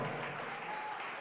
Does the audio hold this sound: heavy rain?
no